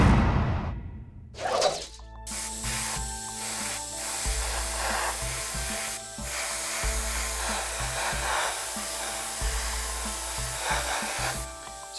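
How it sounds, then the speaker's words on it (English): Rusted umber paint from a LifeColor set sprays out in a steady, close airbrush hiss that runs almost unbroken, after a short burst of blowing air at the start. "So we're just spraying that around the edge."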